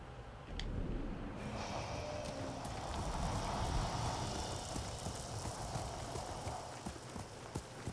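Horse hooves clip-clopping in the Ghost of Tsushima video game, a steady rapid gallop rhythm close by and continuous over ambient game sound, quiet overall with a faint snort-like breath early on.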